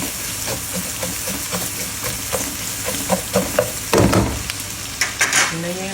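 Onion frying with alamang shrimp paste and fat in a pan, a steady close sizzle broken by repeated spatula scrapes and taps, with a louder burst of stirring toward the end; no one speaks.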